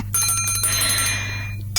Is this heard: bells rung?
yes